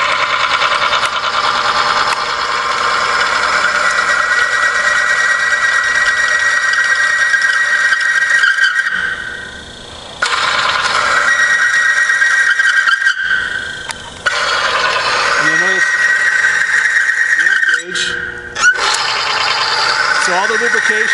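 A lubricant test machine's wheel squeals loudly under pressure, a sustained high metallic whine that wavers and cuts out several times over a motor hum, with someone talking during the run.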